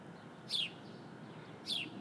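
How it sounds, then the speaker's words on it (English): Two short, bright bird chirps, about a second apart, close by over a low steady outdoor hum, with a mother dove nesting nearby. "The bird you hear chirping is the one that usually is with the 4."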